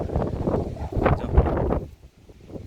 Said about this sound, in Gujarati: પવન એ જોરદાર ઉપડી ગયો છે